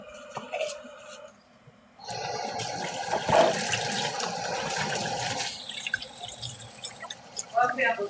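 A toilet flushes with a loud rushing gush of water that lasts several seconds, then fades into trickling and dripping as the tank refills.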